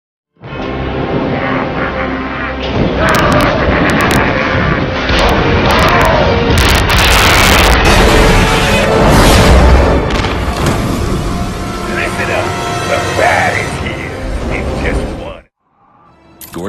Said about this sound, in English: Firefly's bombs